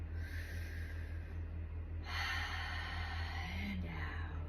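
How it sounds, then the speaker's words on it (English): Slow mouth breathing in a quiet room, with an airy inhale and exhale that strengthens partway through over a steady low hum. "The breath is in and out the mouth."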